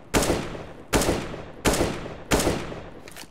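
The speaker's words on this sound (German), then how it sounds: "ihr seht, die Schüsse gehen alle hundertprozentig dahin, wo ich sie hinhaben möchte" Four loud, evenly spaced single gunshots fired in the video game CS:GO, each sharp crack followed by a short decaying tail, with no talking.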